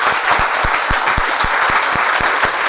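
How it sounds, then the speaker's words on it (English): A hall audience claps steadily for a student performer after an extempore speech on women empowerment, the dense applause staying loud and even throughout with a few heavier claps pulsing through it. "Give a big round of applause."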